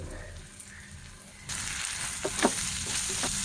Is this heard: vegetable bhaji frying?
yes